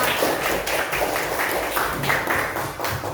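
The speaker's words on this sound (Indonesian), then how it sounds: "Oke, tepuk tangan." Classroom of students clapping together in a school lesson, a dense run of quick, rhythmic hand claps from many pupils at close range, continuous for a few seconds.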